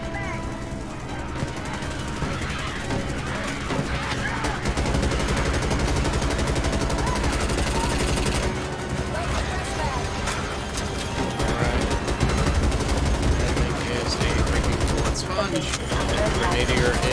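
Weapons in Starship Troopers: Extermination fire a continuous barrage of rapid shots and blasts, loud and dense throughout, with voices talking over the din.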